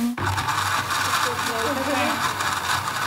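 A kitchen blender grinds tomato and garlic into paste, a loud continuous whirring motor that starts abruptly and runs steadily and close by.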